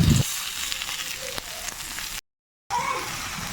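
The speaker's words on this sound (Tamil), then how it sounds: "ஒரு பெரிய சைஸ் தக்காளி அப்படியே வெட்டி அதையும் சேர்த்து அப்படியே நல்லா வதக்கிறணும்" Onion, ginger and a chopped large tomato sautéing in a pan for appatha kuzhambu: a close, even sizzle with faint stirring ticks, broken by a brief dropout before the frying noise returns.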